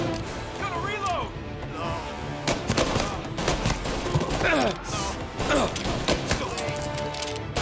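Gunfire rattles in the video game Mafia as bursts of shots crack and thump amid combat, with voices speaking over the shooting throughout.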